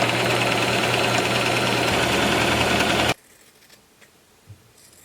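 A sewing machine runs a fast, steady stitching drone along a skirt seam for about three seconds, then stops abruptly, leaving quiet room sound with a couple of soft taps.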